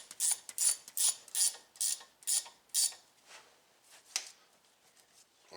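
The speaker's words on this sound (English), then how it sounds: "Once everything is situated, then go ahead and tighten them down." Ratchet clicks from tightening brake caliper bolts on a 2006 Buick Lucerne during a pad, rotor and fluid job, about seven quick close bursts in steady rhythm, then a few softer clicks, with no talking.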